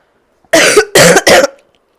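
A person coughs three times in quick succession, harsh and close, with brief gaps between, in an otherwise quiet room.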